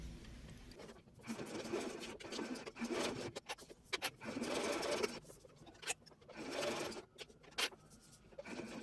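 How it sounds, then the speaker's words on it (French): Sewing machine stitching bias binding along the edge of a baby bib, quiet bursts of rapid mechanical whirring in several runs with brief pauses between them. "Nous avons réalisé la couture du biais sur les deux côtés du bavoir."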